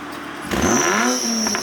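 A Nissan 350Z with a Borla Extreme exhaust blips once in neutral with a sharp rising rev and loud exhaust roar, then settles back to a rumbling idle, close by.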